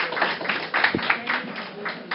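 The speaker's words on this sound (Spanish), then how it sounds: "Así que un aplauso." A church congregation claps during a sermon: a sustained wash of scattered, moderate applause with uneven individual claps, and a brief low thump partway through.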